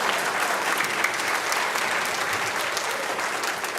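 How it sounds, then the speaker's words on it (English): A school concert audience applauds fifth grade students at an academy event, a dense, steady wash of clapping from a full room throughout. "can we have a round of applause for all of our wonderful 5th grade scholars who worked really hard?"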